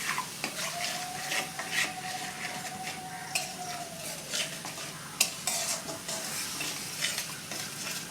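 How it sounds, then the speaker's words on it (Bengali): Spice masala with turmeric and salt frying in a pan for hilsa curry, a soft continuous sizzle with frequent spatula scraping and stirring clinks, close and without talk. "মশলাটা আমি একটু কষিয়ে নেব।"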